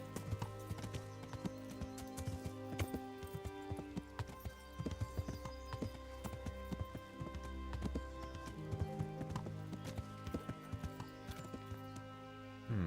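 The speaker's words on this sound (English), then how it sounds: "There is that horse, I think." Steady clip-clopping of horse hooves at a trotting rhythm over a bed of game music in Kingdom Come: Deliverance, with occasional louder hoof strikes.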